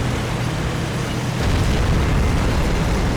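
A tank cannon shot in a tank video game lands as a deep, sustained boom with a low rumble, loud and close, swelling midway through and rolling on without any speech.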